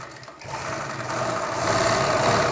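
A sewing machine stitches lace onto a blouse back neck, a steady whirring motor hum that starts after a brief pause and holds close and continuous.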